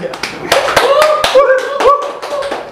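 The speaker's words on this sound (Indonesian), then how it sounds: "Tepuk tangan dong" A few sharp hand claps ring out close by during a casual podcast chat, scattered and uneven, with voices and a rising musical tone underneath.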